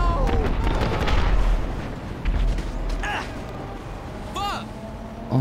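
A vehicle mod in the video game GTA 5 fires its weapon in loud booming bursts over a dense, roaring game soundscape, while people talk excitedly throughout.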